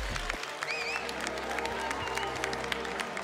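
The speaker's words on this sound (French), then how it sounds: "Voilà, merci Christian, on peut l'applaudir pour l'encourager" An audience at a Gasconne cattle show applauds the judge with a soft, distant patter of clapping, with faint crowd murmur and a few bird chirps over it.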